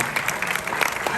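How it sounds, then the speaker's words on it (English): Applause from a festival audience after a Q&A following a screening of the 1995 film Rumpelstiltskin, a dense steady patter of many hands clapping close by, with a voice speaking over it. "a huge round of applause to Mark Jones"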